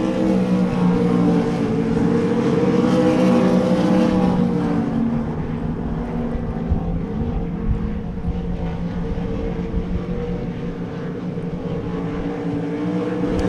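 Race cars running laps on the Devils Bowl Speedway track, a loud sustained engine roar from several cars blending together, slightly easing toward the middle before building again.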